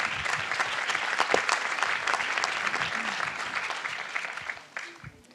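Applause from an audience at a televised astronomy discussion, a dense, close burst of clapping that holds steady and then thins out toward the end.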